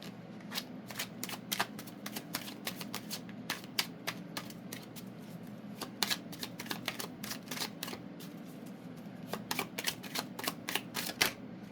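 Tarot cards being shuffled and flipped, a close run of quick crisp riffles and snaps in bursts, with a short pause before more rapid card flicking, no voices.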